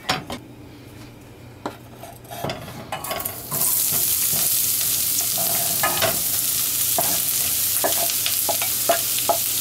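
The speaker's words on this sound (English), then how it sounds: "So what we're going to do is saute the onions till they're nice and soft" Onion and garlic hit hot oil and break into a loud, continuous sizzle after a few seconds of utensil clinks and pan scraping, with stirring knocks still ringing over the hiss.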